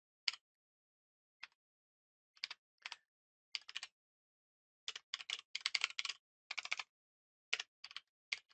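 Code typed on a computer keyboard in a quiet room: bursts of crisp, close key clicks, sometimes single taps and sometimes quick runs of strokes, separated by silent pauses, with no talk.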